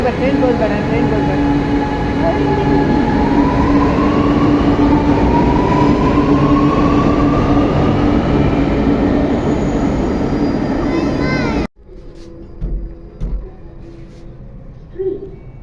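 A metro train in Chennai rumbles loudly along the tracks with a rising squeal of wheels as it arrives, sustained for several seconds before cutting off abruptly to quieter surroundings.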